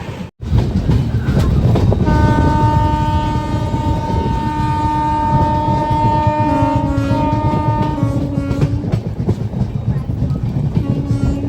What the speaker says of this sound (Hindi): अभी हमारी ट्रेन जो है वो बेगूसराय क्रॉस करी है